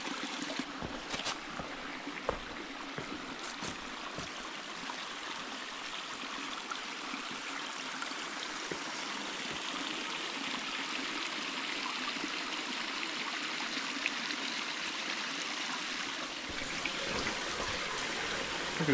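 Continuous rushing of water flowing out of a cave in Walls of Jericho Canyon, Alabama-Tennessee, a steady broad hiss with faint trickling detail, holding evenly for the whole stretch with no voices.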